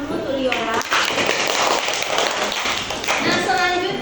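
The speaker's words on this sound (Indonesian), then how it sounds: "Silakan dulu nak, beri tepuk tangan dulu tuh Liora." A classroom of grade 2 and 3 children bursts into dense, steady clapping for a classmate, the applause filling the room with children's voices mixed in throughout.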